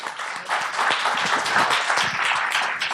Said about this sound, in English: I think they need a big round of applause.